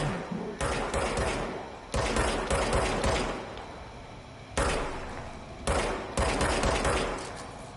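Bursts of gunfire from the video game Control ring out in repeated loud volleys, each rapid string of shots lasting a second or so, separated by short gaps with lingering room noise.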